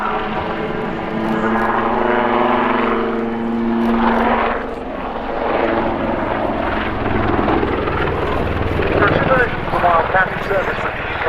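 A Royal Navy Wildcat HMA-2 helicopter hovering nose-up at an air show, its steady rotor and engine roar filling the air with a throbbing drone while a commentator talks over it throughout.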